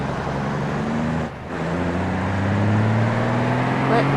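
A car engine revs up as it accelerates in the BeamNG.drive game, its rising drone climbing steadily in pitch. It dips briefly near the start and then builds loudly to the end, and a voice talks over it.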